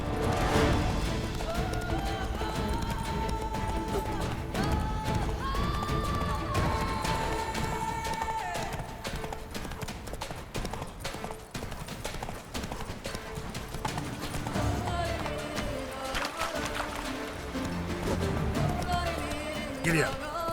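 Horse hooves clip-clopping at a run in The Witcher 3, steady and loud throughout, mixed with game music and occasional voice calls.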